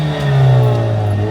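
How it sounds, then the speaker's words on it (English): A Mercedes CLA 45 engine revs hard in Sport Plus, a loud sustained roar climbing and then easing slightly, close up with no talking. "Wait, I'm gonna rev this, okay?"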